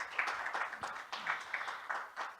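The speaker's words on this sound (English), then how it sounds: "Give him a round of applause as he comes through." Faint, scattered clapping from a small audience at a climate change research launch event greets an incoming speaker, with sparse claps and a thin wash of applause.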